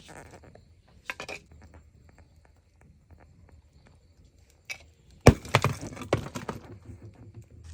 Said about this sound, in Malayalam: അടുപ്പത്ത് വെക്കുമ്പോഴേക്ക് പൊട്ടി തെറിച്ച് പോയി മക്കളെ നമ്മൾ മൊത്തം ചട്ടി പൊട്ടിപ്പോയി